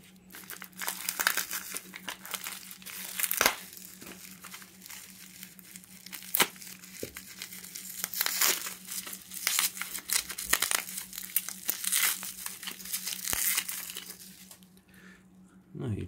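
Crinkly packaging around silver coins is unwrapped close up, giving continuous crackling and rustling with sharper tearing snaps, over a low steady hum.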